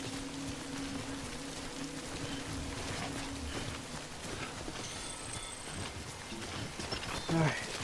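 Steady rain hiss in Death Stranding fills the scene throughout, with a low hum underneath and a brief thump near the end.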